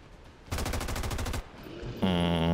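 A sustained burst of rapid automatic fire crackles in XCOM 2, a fast even rattle lasting almost a second, followed by quieter game effects and a tonal interface chime.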